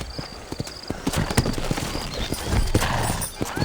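Horse hooves clip-clop in Red Dead Redemption, a quick, uneven run of near, crisp knocks on hard ground, steady and loud with no talk over them.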